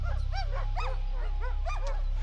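Several dogs outside at night howl, whine and yip in overlapping wavering cries over a constant low hum, fairly close and continuous.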